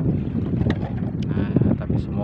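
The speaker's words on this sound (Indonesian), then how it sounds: "Angin deras, ombak besar." Strong wind buffets the microphone aboard a small fishing boat at sea, with rough water sloshing under a roaring gust, while people talk over it.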